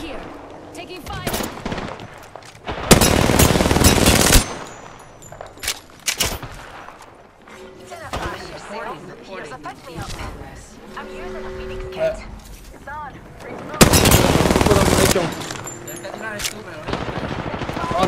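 Automatic weapon fire in the battle royale game Apex Legends: two loud, dense bursts of rapid shots stand out against quieter mid-battle noise, with scattered softer shots and effects between them.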